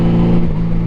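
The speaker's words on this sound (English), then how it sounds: "Look, listen to that engine." A Honda Goldwing motorcycle engine holds a loud, steady, deep hum at close range, with an even tone and no spoken voice over it.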